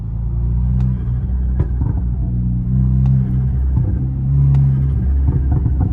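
BMW N20/N26 turbo engine with a GoFastBits diverter valve, revved to around 2,000–2,500 RPM and released, giving a deep, steady rumbling car engine with faint, brief flutter bursts on lift-off, fairly loud and close.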